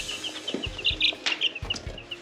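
Backyard chickens in a spring coop cluck and chirp continuously nearby. Brief soft knocks and scuffs are mixed in with the calling.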